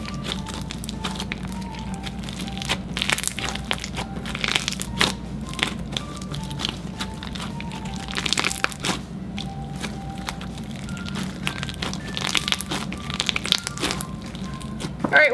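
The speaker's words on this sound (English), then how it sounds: "I honestly really like how crunchy it is" Wet, crackly squishing and popping of crunchy slime packed with too many cubes repeats in irregular bursts, close up, with faint tonal beeps in the background.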